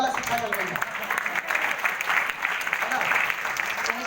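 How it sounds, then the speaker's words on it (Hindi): An audience applauding a speaker at a talk, a sustained patter of many hands clapping throughout, moderately loud and steady. "मैं चाहूंगा सर के लिए जोरदार ताली"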